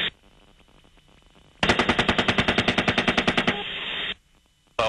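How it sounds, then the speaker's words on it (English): Rapid automatic gunfire from a helicopter in combat footage: a dense, loud burst of evenly spaced shots lasting about two seconds, with the helicopter's steady background drone before and after. "I'm shooting for some reason."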